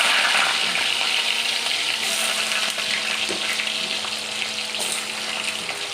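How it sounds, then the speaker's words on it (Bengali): Cut jackfruit and potatoes fry in hot white oil with a dense, steady sizzle and crackle that holds across the whole stretch, close and fairly loud, with occasional brighter pops. "গরম তেলে আলুগুলো ভেজে নেব আমি লাল লাল করে"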